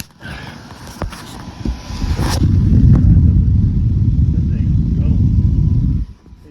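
A 36-inch 600 CFM three-speed range hood insert switched to high: a steady, loud broadband whoosh of rushing air and fan rumble that holds for several seconds before cutting off, with someone talking over it at the start.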